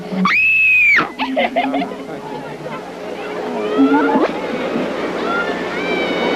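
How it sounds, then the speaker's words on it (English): A fan at a 1966 U.S. tour interview lets out a single loud, high scream of about a second, then crowd and voices take over in a noisy, echoing space. "What do you suppose one of your screams might sound like?"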